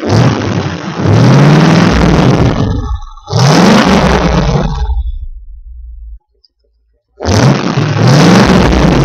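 A classic car with a stock engine and Thrush glass pack exhaust, heard from the side near the muffler, revs hard in three loud throaty bursts, each rising and falling, with a short silent gap between the later ones.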